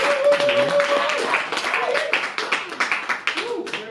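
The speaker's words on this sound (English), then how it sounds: "Round of applause as she makes her way up here." An audience claps and cheers as a volunteer walks up to join a performer at a magic show, with steady applause under loud whooping and talk, then thinning into scattered claps.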